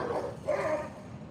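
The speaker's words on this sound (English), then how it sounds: "Don't mind the dogs, they're just doing dog things" Dogs bark and yip in the background during a pit bull training session, a short, moderately loud burst of barking.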